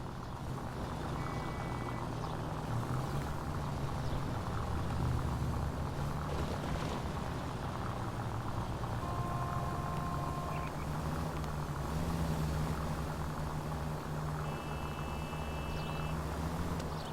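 A car driven recklessly through city streets in the video game L.A. Noire, a steady close engine drone that holds throughout with slight swells, faint tonal beeps over it and no talking.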